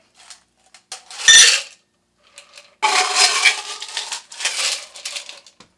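Ice being scooped with a plastic cup, a close rattling crunch of cubes against plastic, with a short burst early followed by a longer clattering scoop and settling rustle.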